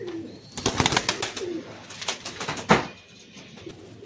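Domestic flying pigeons coo softly amid a flurry of clattering wing flaps and sharp knocks, close and busy, with brief bursts of activity throughout.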